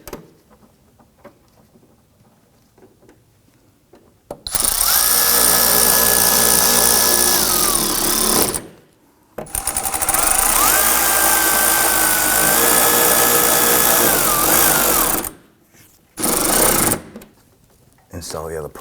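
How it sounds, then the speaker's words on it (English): A power screwdriver drives screws around the front inner fender liner of a 2015-2020 Ford F-150, with three loud whirring bursts of several seconds each, rising and settling in pitch, separated by quiet gaps. "I'm going to follow up with the screws up around the perimeter."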